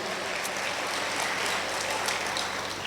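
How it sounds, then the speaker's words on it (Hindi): Audience applause at an international Urdu mushaira poetry gathering in Muscat, Oman, a steady wash of many hands clapping together throughout, dense and continuous. "एक बार सारे लोग मिलकर तालियां बजा के बताइए"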